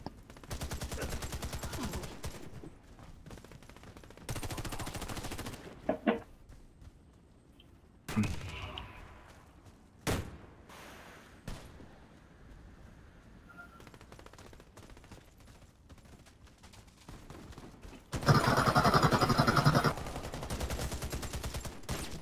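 Video-game gunfire rattles in several loud automatic bursts separated by quieter stretches and scattered single shots, with the heaviest sustained volley near the end.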